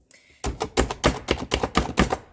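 Leftover turkey being chopped into small bits on a mat, seven or eight quick, crisp chops in a brisk even rhythm, close and clear with no voice over them.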